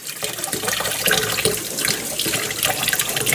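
Water running steadily from a tap while rinsing a Samsung dishwasher filter, a close, continuous splashing hiss with small fluctuations as the filter moves under the stream.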